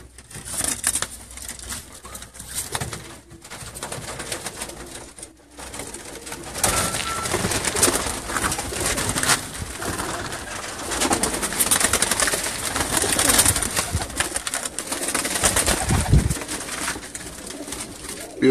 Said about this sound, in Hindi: पेयर पट्टी वाले कबूतर है।